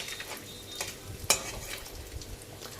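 Whole spices frying in hot oil in a pan, with a dry red chilli added whole, as the cook stirs them; a soft continuous sizzle runs under faint scraping stir strokes, with one sharp crackle partway through.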